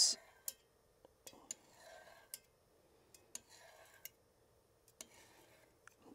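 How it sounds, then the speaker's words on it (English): A palette knife slicing through a soft cottage cheese curd, heard as a string of faint, sharp taps and clicks spaced irregularly over quiet, with soft wet scraping between them. "So let's cut the curd"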